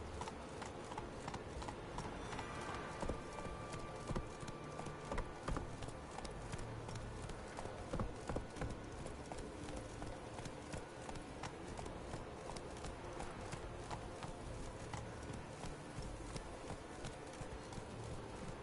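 A horse gallops across the world of the video game The Witcher 3, its hoofbeats a fast, even clip-clop that rolls on without a break, moderately close but kept low in a busy game mix, with no voices.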